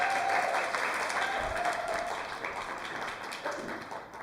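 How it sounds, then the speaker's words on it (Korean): Audience at a book talk applauding one another, a full, steady round of clapping that slowly fades in loudness across the clip. "서로를 위해서 박수 한번 다시 한번 주시죠."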